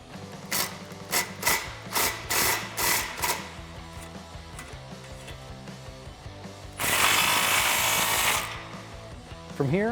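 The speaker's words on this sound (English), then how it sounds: "we're gonna rotate our clamp up and tighten it down" Ratchet tightening an exhaust clamp on a 2018-2019 Mustang GT Pypes Phantom cat-back exhaust: a string of quick, sharp clicking pulls near at hand, then a longer, steady burst of ratcheting toward the end.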